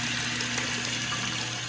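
Water runs from a toilet tank into the bowl past a worn, old flapper that no longer seals, making a steady, continuous trickling hiss with a faint low hum and no voices.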